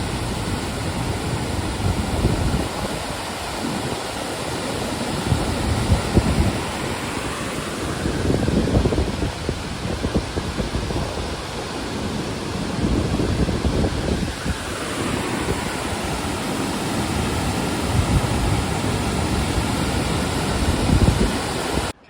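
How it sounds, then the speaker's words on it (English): A waterfall in Olympic National Park roars in a steady, broad rush, loud and unbroken, with gusts of wind and footsteps along a trail mixed in and no talking. "So we're up above the waterfall."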